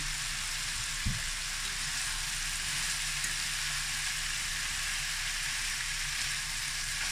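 Hotdogs frying alongside chicken in a pan for chicken afritada, a steady close sizzle and crackle running throughout with a brief clunk near the start and no talking.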